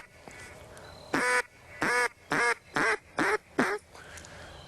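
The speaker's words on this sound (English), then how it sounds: "that's all there is to learning how to blow a duck call" A duck call blown in a slow one-note cadence: six loud, evenly spaced quacking notes in a row, close to the mic, with no talking over them.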